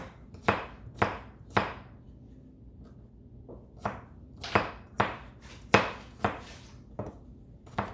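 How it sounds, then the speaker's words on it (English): A knife chops fresh garlic on a cutting board, about a dozen sharp, close knocks that come in uneven bursts with short pauses between them. "so I'm gonna chop up my garlic"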